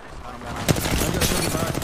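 Gunfire striking the player in a video game, a rapid burst of close, sharp shots and impacts crackling over roughly a second, with a voice talking over it.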